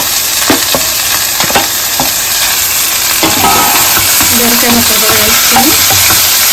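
Onions and ridge gourd frying in a pan for a vegetarian banana curry, a loud, steady sizzle close by with repeated scraping and clatter of a spoon stirring through, no voices.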